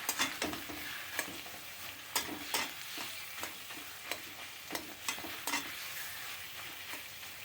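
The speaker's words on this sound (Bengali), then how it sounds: "এবার এটাকে নাড়তে থাকবো।" A sweet-sour pickle mixture is stirred in a pan, with a spoon scraping in quick, uneven strokes over a soft, steady sizzle. No one speaks.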